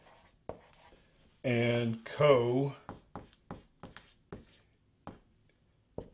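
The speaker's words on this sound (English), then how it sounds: "let's write that up here on the board" Marker squeaking and tapping on a whiteboard as words are written, a string of short sharp strokes at irregular intervals, with a brief stretch of talk early on and quiet between the strokes.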